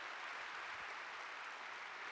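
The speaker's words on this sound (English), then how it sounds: "a round of applause for that" An audience at a faith conference applauds, an even, distant wash of clapping that stays faint and steady throughout.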